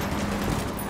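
Sustained gunfire rattles through a firefight in Ghost Recon Wildlands, a dense, continuous burst filling the whole second at steady loudness with no clear gaps.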